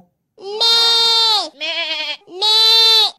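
Goats bleat three times up close, loud drawn-out nasal calls with a short, wavering middle bleat between two longer ones, heard alone against silence.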